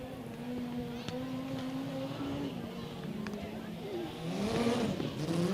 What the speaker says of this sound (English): a very, very sick-sounding motorbike